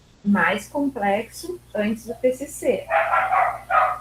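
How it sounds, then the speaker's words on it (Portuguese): A dog barks repeatedly outside a window, sharp yips and bow-wows in an uneven rhythm, heard beneath a person speaking Portuguese in an online class. "tem um cachorro latindo"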